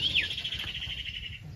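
A sunbird close to a bird trap gives a sharp falling chirp followed by a long, thin, high trill that fades out, fairly soft against faint outdoor background noise.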